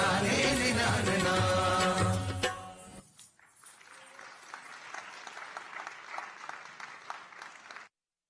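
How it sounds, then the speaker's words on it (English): Music at a Thai Pongal festival in Markham ends abruptly after three seconds, and the audience answers with steady, moderately loud applause that lasts about five seconds and then cuts off. "A round of applause for that mesmerizing performance"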